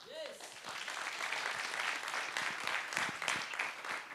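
An audience applauds steadily as a speaker is welcomed onto a stage at a fintech recruitment event, a broad, continuous wash of clapping that holds at an even level throughout with no voices over it.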